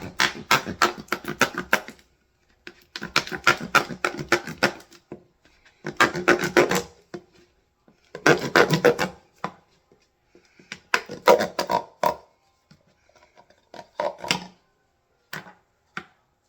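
A knife cuts through a lemongrass stalk in the middle on a cutting board, a series of rapid crisp chopping bursts separated by short pauses, close and fairly loud, trailing off into lighter scattered cuts.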